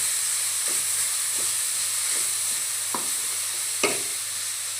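Grated carrot sautéing in a pan for a carrot rice dish, a steady soft sizzle and hiss with a few light stirring scrapes, no talk.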